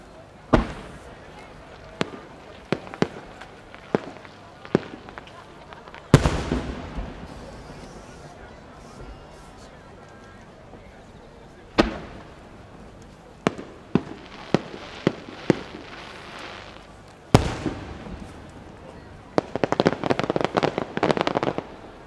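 Fireworks shells bursting at the Omagari fireworks competition in Akita, Japan: sharp separate booms spaced out over the show, some trailing into crackle, ending in a fast rattling run of crackling bursts.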